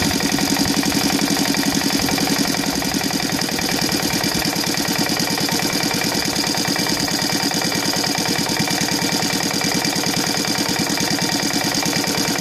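A Saito FA-125 model aircraft engine converted to CDI ignition idles steadily at low RPM, giving a close, loud, continuous pulsing beat that stays even throughout, with no one talking.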